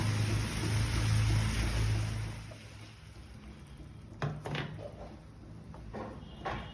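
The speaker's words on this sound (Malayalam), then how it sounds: "1/2 കപ്പ് വെള്ളം ഒഴിച്ചു കൊടുക്കാം." Water is poured into a curry in a pan, giving a loud rushing gush that fades after a couple of seconds, followed by quieter bubbling, scraping and clatter sounds.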